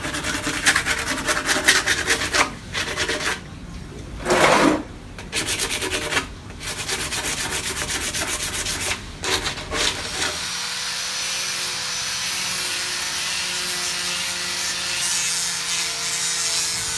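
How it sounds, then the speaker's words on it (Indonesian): Sandpaper rubbing the sharp edges of a resin table: loud, continuous abrasive scraping broken by brief pauses, then a steadier, smoother droning hum for the last several seconds. "Jadi diamplas untuk lebih memastikan bagian tajamnya itu hilang teman-teman."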